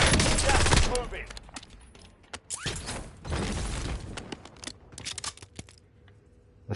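Rapid bursts of gunfire from a Call of Duty match, loud and clustered in the first few seconds, then scattered shots and mechanical clicks of weapon handling trailing off.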